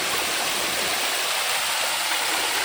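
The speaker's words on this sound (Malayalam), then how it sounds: "ഇത് നമ്മുടെ സ്വന്തം വാട്ടർഫോൾസ് എന്ന് പറയാം കേട്ടോ, കാട്ടിനകത്ത്" A small waterfall in a forest near a Thai village rushes continuously, a steady, loud, hissing wash of falling water with no voices.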